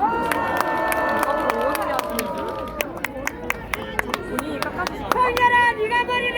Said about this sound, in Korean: 다시 한번 윤재갑 위원장님께 큰 박수 부탁드리겠습니다.